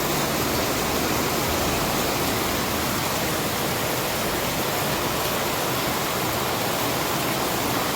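Heavy rain pours onto a rooftop terrace during a storm, a dense, constant hiss with no breaks and no voices.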